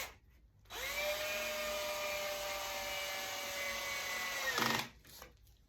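A cordless drill driving screws into a display case build whirs steadily for about four seconds at high speed, then winds down abruptly, close and fairly loud.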